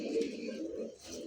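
Pigeons at a bird market give a low, steady cooing murmur, one bird's coo sounding close against the soft crowd of others, continuous for a moment with no voices.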